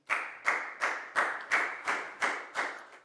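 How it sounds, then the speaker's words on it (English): Classroom clapping for a young student in a primary English lesson: seven crisp, evenly spaced claps in a steady rhythm, fairly close and loud, as if several children clap in unison, with no talking. "High five and a big round of applause for Pat, please, guys."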